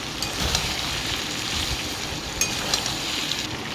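Ginger, garlic and cumin paste frying in oil for a homemade chicken curry, a steady close sizzle with soft scraping as it is stirred in the pan.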